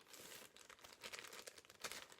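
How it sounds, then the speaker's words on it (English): Soft, close crinkling and rustling of a plastic bag holding cross-stitch fabric as it is worked open, in quick irregular bursts. "if I can manage to open my plastic bag where my fabric is in"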